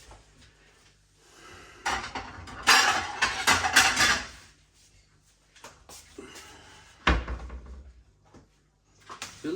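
A plate clatters against other crockery as it is taken from a kitchen cupboard, with a cluster of knocks and rattles early on, one sharp bang later, and another rattle at the end amid quieter pauses.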